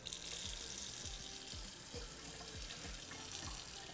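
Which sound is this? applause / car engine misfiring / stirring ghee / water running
water running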